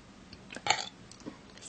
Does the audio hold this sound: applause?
no